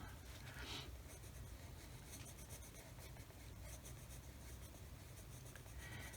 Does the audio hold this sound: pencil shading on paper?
yes